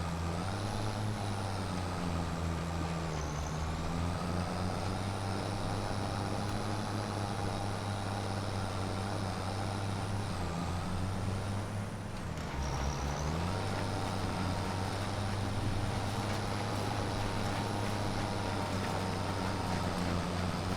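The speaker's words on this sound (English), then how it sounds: "it doesn't even like pulling the baler uphill" A tractor pulling a baler uphill in Farming Simulator 25 drones with a steady, laboring engine hum, a continuous mechanical whine on top that dips briefly twice as the load shifts.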